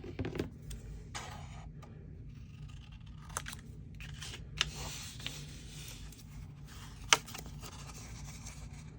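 Scissors cut paper into tag shapes for a junk journal, making quiet, irregular snips and crinkly rustles of paper being handled and flipped, with a few sharper clicks. The room is otherwise quiet.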